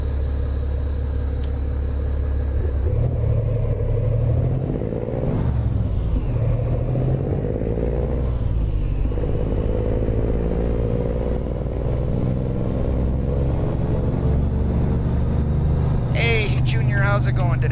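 Truck engine in American Truck Simulator, a steady low diesel rumble idling and pulling away with rising whine and shifting tones, a sharp air-brake-like hiss near the end, with someone talking over it.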